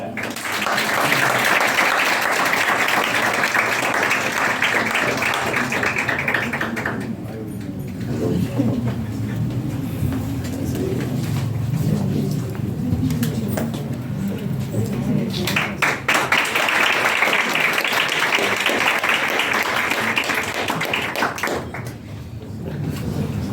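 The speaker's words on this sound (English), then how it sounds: "Teacher, do clap." During a personality and leadership development workshop, an audience gives two long bursts of loud, dense clapping, with a stretch of voices and quieter sounds in between.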